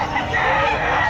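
A rooster at a pet market in Calumpit crows loudly and close by in one brief, strained call.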